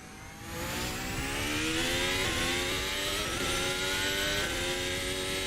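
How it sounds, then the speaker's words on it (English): A Formula Hybrid 2022 race car in Assetto Corsa revs up after a brief quiet start, then holds a loud, high, buzzing engine whine with a few slight dips as it shifts. "The engine sounds pretty good"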